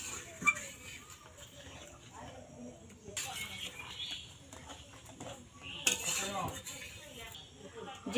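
Mutton being stirred and browned in a pot for kosha, with clinks and scrapes of a utensil against metal in bursts, a background hiss, and brief speech in between.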